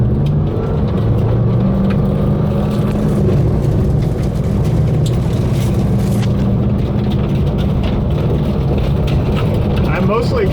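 A car driving at night with a 42-inch curved LED light bar fitted, giving a steady, loud low engine and road rumble throughout, with faint background voice hints.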